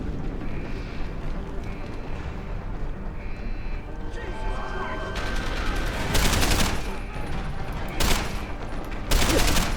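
Bursts of gunfire from the shooter Deus Ex: Human Revolution, several sharp volleys in the second half over a steady bed of game ambience, with no talk.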